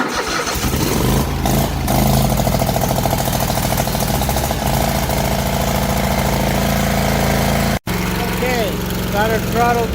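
A small engine, started on choke, runs loud and steady close by and then settles into an even idle after the throttle is eased down. A voice talks over it.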